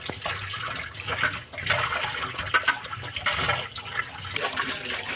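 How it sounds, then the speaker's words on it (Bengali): Rohu fish is washed under running water, with a continuous splashing flow and irregular sloshes and drips from the fish being handled, close and fairly loud, with no talking. "এই আমরা এবার মাছটা ধুয়ে নেবো"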